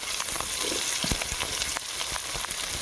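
Onions frying in oil with garlic, ginger and green chili, a dense, steady, close sizzle with frequent small crackles and spatter ticks throughout.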